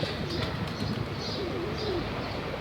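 Pigeons coo softly and repeatedly among a flock of birds, faint and somewhat distant over low background noise, with no talking.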